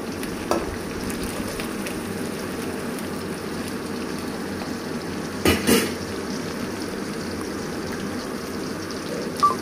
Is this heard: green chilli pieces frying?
yes